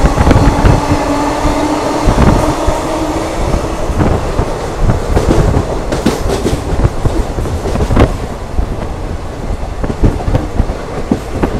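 Khandesh Express passenger train running between Mumbai and Jalgaon via Vapi, heard from inside a carriage: a loud, steady rumble with rhythmic clickety-clack of wheels over rail joints, continuous throughout with no talk.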